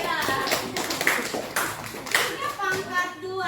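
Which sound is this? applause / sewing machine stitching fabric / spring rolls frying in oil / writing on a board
applause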